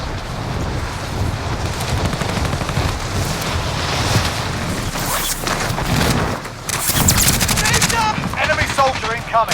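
Automatic weapon fire in the battle royale shooter Warzone Rebirth Trios, dense continuous bursts over a windy, noisy backdrop, loud and close with a brief lull before the shooting resumes.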